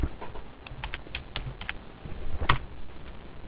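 Quick, light clicks of computer keys tapped in a short irregular burst, close by and fairly quiet, with a firmer key press near the end.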